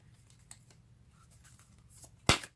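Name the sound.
shuffling a deck of tarot cards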